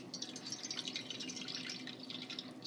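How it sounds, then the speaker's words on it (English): Brewed coffee poured through a strainer into a container while making s'mores tiramisu, a faint steady trickle and drip of liquid running continuously and alone. "coffee goes into here."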